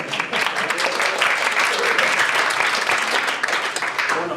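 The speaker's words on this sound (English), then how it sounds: "Don't applaud before I started." Applause from wedding guests at a Templepatrick reception before the father of the bride's speech, loud sustained clapping from a full room, steady throughout.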